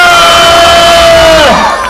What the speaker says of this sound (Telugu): ఒక్కసారి మా కోసం మా అందరి కోసం గట్టిగా చప్పట్లు కొట్టాలని కోరుకుంటున్నాము